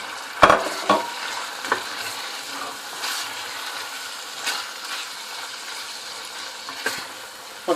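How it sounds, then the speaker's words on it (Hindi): Zucchini frying in a pan gives a soft continuous sizzle under intermittent spatula scrapes and knocks against the pan, nobody speaking. "आपको मैं दिखाती हूँ, भून रहा है ना, फिर उतारती हूँ।"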